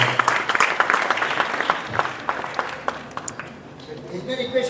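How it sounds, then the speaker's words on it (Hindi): An audience at a Class 12 school farewell ceremony bursts into clapping, starting with distinct close claps that thicken into applause and then fade as talking takes over. "ताली बजाए इसके लिए"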